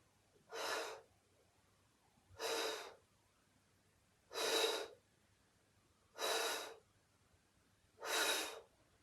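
Five steady exhalations during a pilates exercise, each a soft, breathy whoosh lasting about half a second, spaced roughly two seconds apart, close and clear with no talking.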